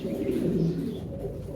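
Large fancy pigeons, a male and female pair, coo in low, steady murmurs close by, with a few faint chirps over the continuous soft cooing.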